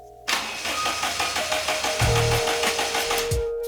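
A Daihatsu Mira half-cut engine cranks without catching: a rhythmic, pulsing whir of the starter turning it over repeatedly for a few seconds, close and fairly loud, then winding down.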